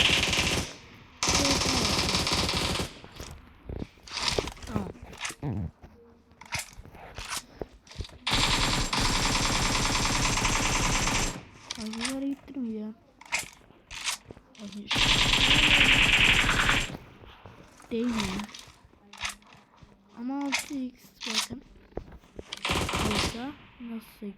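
Video game gunfire from a laser-fitted gun in a match, long sustained automatic bursts repeated several times, loud and close, with someone talking in the gaps between bursts.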